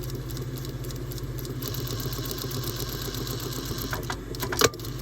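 A sewing machine stitches seams on a fabric face mask, a steady close mechanical hum with a rapid needle rhythm running throughout, briefly interrupted by a couple of small clicks near the end.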